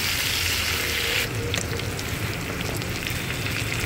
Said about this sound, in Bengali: এই দুটো সবজি আলাদা ভাজলেও হবে, একসাথে ভাজলেও হবে। আমি একসাথে ভেজে নিলাম।